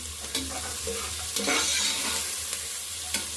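Roughly chopped onions fry in oil while a spoon stirs them, giving a steady sizzle with scraping strokes against the pan, close and fairly loud, with no talking.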